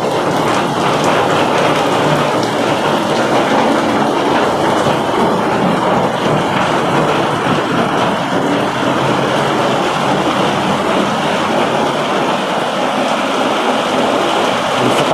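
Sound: heavy rain

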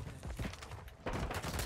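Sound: gunfire from a gun in a video game

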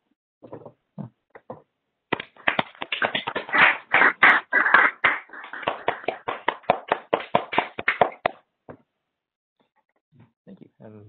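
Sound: applause from unmuted online audience

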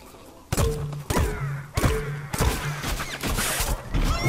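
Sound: Peashooter firing shots in the video game Plants vs. Zombies: Garden Warfare 2

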